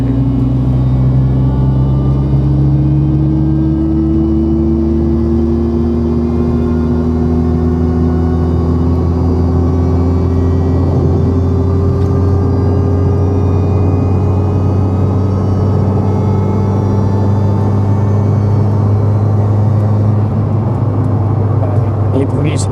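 Supercharged Perodua Bezza engine droning steadily while driving, a loud continuous low hum with rising harmonic lines from gentle acceleration, running throughout with people talking over it.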